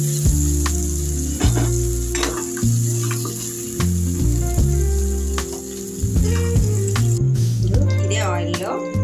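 Paneer pieces fry lightly in hot oil, a steady close sizzle with soft spattering and occasional stirring clatter, while a voice talks over it throughout.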